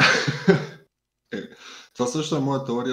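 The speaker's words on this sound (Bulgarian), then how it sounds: "Кашлям, бе." A man coughs sharply twice near the start, close and loud, followed by a short pause and then his resumed speech.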